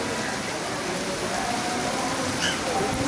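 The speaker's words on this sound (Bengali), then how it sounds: "বৃষ্টি হচ্ছে প্রচুর বৃষ্টি হচ্ছে" Heavy monsoon rain pours steadily outdoors during an evening temple aarti, a dense continuous hiss filling the scene at moderate loudness with no break.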